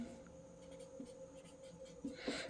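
Someone writes on a board during a class 10 math lesson, producing faint, close scratchy marker or chalk strokes in a steady rhythm, with a few sharper taps near the end.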